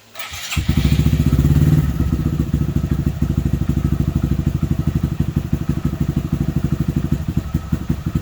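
A Honda Grom motorcycle engine starts with a quick crank, then runs in a loud, close, steady thumping idle that continues to the end with no talk.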